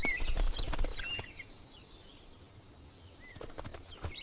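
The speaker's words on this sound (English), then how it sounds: "Listen, the birds. I never hear them in the city." Birds call in a quiet outdoor spot away from the city, with wings flapping nearby. A few short chirps come at the start and again near the end, and a calm lull falls between them.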